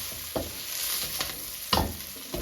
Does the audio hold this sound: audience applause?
no